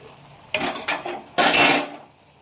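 Boiled peas for ghugni being stirred and fried in a pan, a spoon scraping and clattering against the metal in three short bursts, the last one longer, close and fairly loud with no voices.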